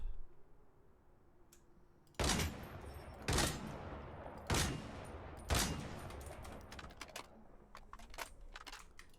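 Four loud, evenly spaced gunshots from the video game Lost Light, each a sharp crack with a short reverberant tail, standing out over a quiet background with faint clicks between them.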